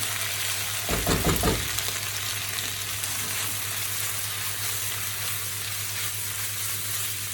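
Chillies and garlic cook in a pan over moderate heat, giving a steady close sizzle with a brief burst of stirring near the start.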